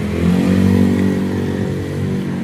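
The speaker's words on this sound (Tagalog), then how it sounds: "Okay, ito po ay Honda Click" A Honda Click 150i scooter engine idles steadily up close, a loud, even mechanical drone with a slight clatter and no voices over it.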